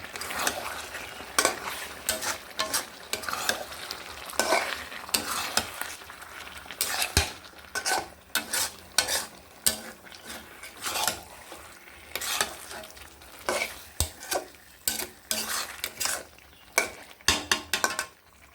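Chicken with spices and green chillies is stirred in a pan through a long run of scraping, clinking spatula strokes over a soft sizzle, uneven in rhythm and close by, with no talking.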